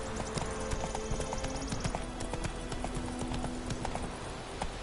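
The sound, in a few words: horse galloping in The Witcher 3 video game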